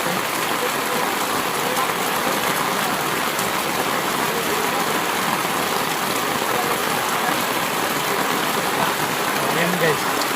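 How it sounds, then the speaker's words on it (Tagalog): Steady rain pours down on a farm, a loud, even hiss that fills the whole stretch without letup, with a voice faintly present beneath it. "Wala kaming magawa kasi ulan."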